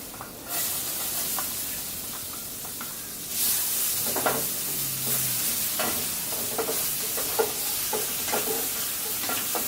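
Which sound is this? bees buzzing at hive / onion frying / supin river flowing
onion frying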